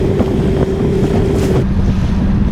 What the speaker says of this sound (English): Got some wind blowing in.